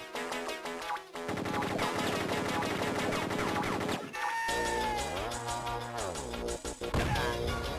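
Rapid gunfire bursts from a handheld 3D shooter game on the Game Boy Advance, loud and dense over a busy, music-like game soundtrack, with a pause near the middle before the shots and effects resume.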